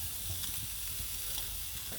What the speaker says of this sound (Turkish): Şimdi mühürleme işlemi için tavaya atıyorum.